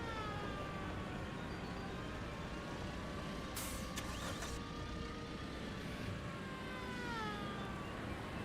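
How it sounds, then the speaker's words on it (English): Police car sirens wail in the city-building video game Workers and Resources, long rising and falling tones running over a steady rumble of traffic, faint and distant, with a brief hissing burst partway through. "I gotta upgrade those police cars just so the sirens sound normal."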